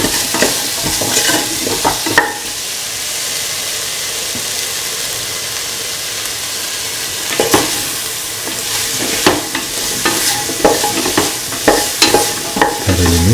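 Ginger, potato, rice and onion mixture stirred in a hot pan while frying, with a steady sizzle under repeated scraping strokes of a utensil, louder in bursts toward the end.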